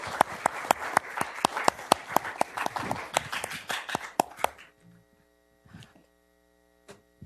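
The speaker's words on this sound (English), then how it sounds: "Let's give our officers a round of applause." Applause for police officers at a West Covina city council meeting, a brisk burst of clapping from a modest room crowd that fades out after about four seconds, leaving low mains hum and a few scattered claps.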